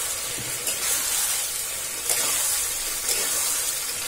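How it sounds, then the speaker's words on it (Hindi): Chicken curry masala with butter frying in a pan over a high flame, a steady bright sizzle that runs throughout, with a few soft stirring scrapes. "गैस के फ्लेम को हमें हाई कर देना है और इसे थोड़ा भूनते रहना है।"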